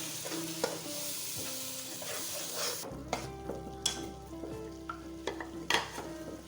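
Tomato paste made from two large tomatoes hits a hot pan for fish curry, a loud sizzle giving way to clanking spoon stirs and scraping at a steady pace, close by, with no one speaking.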